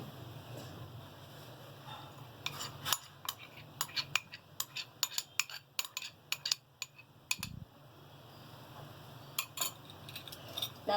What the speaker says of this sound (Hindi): मैं चम्मच से मिक्स कर रही हूँ